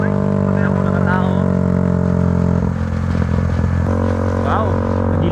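Several motorcycles ride a mountain road on a busy Sunday, their engines droning steadily and close throughout, with a shifting whine as revs rise and fall and light clatter over the rumble.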